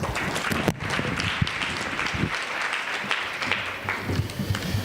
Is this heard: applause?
yes